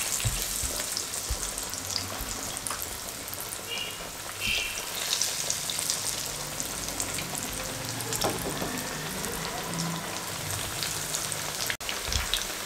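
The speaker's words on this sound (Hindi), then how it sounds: "हमने इस तरीके से डाल दिए और इनको फ्राई होने के लिए छोड़ देंगे" Potato chip pakoras fry in hot oil, making a steady crackling sizzle like rain on a surface, close and continuous for a long stretch, with small bubbling pops and no voices.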